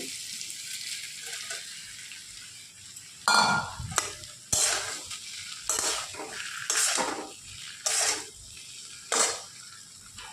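Soybean chunks fry in a wok under a quiet sizzle while a spoon stirs and scrapes in loud, rhythmic bursts about once a second, close and without speech.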